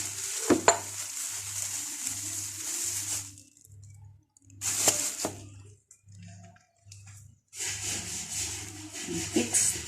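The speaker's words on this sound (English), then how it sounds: "Make sure you mix the dough" Ugandan kabalagala pancake dough mixed by hand, giving wet rubbing and squishing bursts that come and go in uneven strokes, close up over a steady low pulsing hum.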